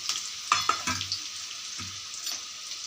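Chopped onions tumble into hot oil with frying green chillies, setting off a steady crackling sizzle, with a few sharp stirring scrapes and clinks of a spoon against the pan. No one speaks.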